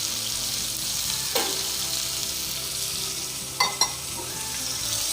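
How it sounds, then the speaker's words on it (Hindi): Chicken pieces frying on a tawa, a steady close sizzle throughout, broken by a few sharp clinks and scrapes as the pieces are flipped. "इस तरह पलटते रहना है ताकि चिकन जो है अच्छे से पकती रहे।"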